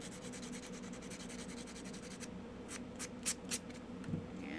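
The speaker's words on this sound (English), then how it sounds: "Here's my sandpaper. All right. Clean this out because it's kind of gross." Sandpaper rubs over the wood of a birdhouse kit in quick, soft, rhythmic strokes, followed by a few sharper scrapes, fairly close and quiet with no talking.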